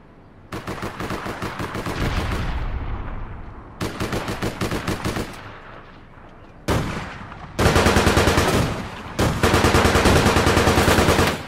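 Sustained automatic gunfire in the online shooter APB Reloaded, loud rapid bursts of several seconds each separated by short pauses, growing heavier toward the end with no talking.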